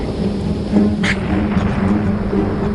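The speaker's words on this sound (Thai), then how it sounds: "ฝนสาดเปียกหมดแล้ว" Rain and thunderstorm sound effect in a radio drama, with steady heavy rainfall and a low rumbling of thunder, plus a brief sharp crackle midway, loud and close, no speech.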